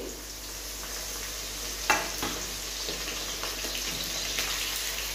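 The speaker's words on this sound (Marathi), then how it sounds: "असंच मंद आचेवर मिरची सुद्धा तळून घ्यायची." Green chillies fry in oil on low heat for Diwali chivda, a continuous close sizzle with a clatter of stirring near the start and soft scraping afterward.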